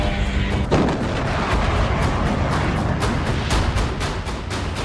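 Explosion from a Ukrainian drone strike on the largest building in Saratov, Russia: a loud, dense series of heavy booms and cracking bursts that rumble continuously with no voices.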